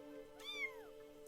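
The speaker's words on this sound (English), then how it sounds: "Inside, nestled beneath the circus and monitor tubes, it's a baby kitty!" A kitten found inside an arcade cabinet in the video game Arcade Spirits gives a single short, high meow that rises and falls, heard faintly over a steady background hum.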